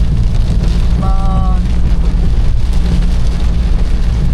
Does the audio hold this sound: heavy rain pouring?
yes